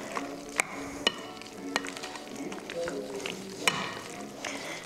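Manicotti filling gets stirred in a pan, soft scraping and sizzling with a few sharp clinks of a utensil against the pan, fairly quiet and close.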